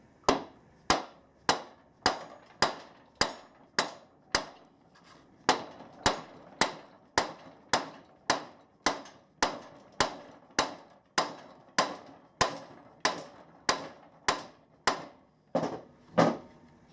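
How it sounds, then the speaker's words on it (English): A nylon dead blow hammer strikes a Morini 350 crankshaft to drive it through its bearing: a steady series of about twenty sharp, close, evenly paced blows, each a crisp knock with a short decay, with no talk. "I've got a nylon dead blow hammer, and I'll use that to drive the crank through the bearing"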